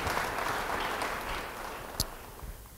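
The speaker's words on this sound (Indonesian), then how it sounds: "Yang mau beri tepuk tangan bagi Tuhan" A church congregation applauds in a sustained wash of many hands that slowly thins out, with one sharp louder clap standing out near the end.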